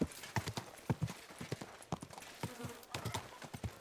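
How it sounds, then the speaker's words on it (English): Horse hooves clip-clop in steady, quick rhythm in the video game Kingdom Come Deliverance 2, close and fairly loud, with a few faint vocal sounds mixed in. "Easy, good horse."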